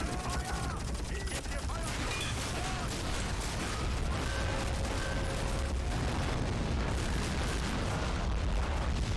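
Grenades thrown at tanks in the Army Men of War battle simulation go off in dense, overlapping blasts and rattling gunfire, a constant loud barrage of battlefield chaos with faint voices under it.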